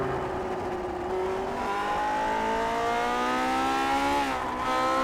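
A race car engine in a racing video game, a Mosport round, revs high and steady with its pitch climbing through the gears, then drops sharply on a downshift and picks up again, loud and close with no talking.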